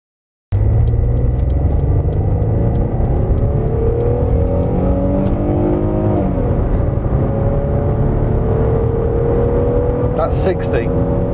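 A Citroen Xantia V6 of about 200 horsepower accelerates hard, its engine note climbing steadily in pitch through the gears, loud and close throughout with a brief dip around a gear change.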